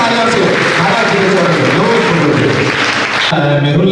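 An audience applauds loudly for a revered guru, Maharaj ji, at a religious gathering in Panipat, a dense, continuous burst of clapping and crowd noise close by that softens slightly near the end.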